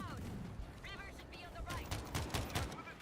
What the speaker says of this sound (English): Somebody's shooting mortars.